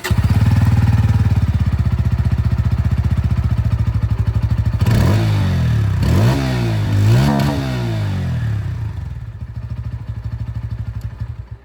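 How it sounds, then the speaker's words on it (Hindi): A 2025 Bajaj Pulsar N160 idles with a loud, close thumping exhaust, then revs up and down several times in quick swells before settling back and cutting off. "जो एग्जॉस्ट साउंड है वो भी मैं सुना देता हूँ"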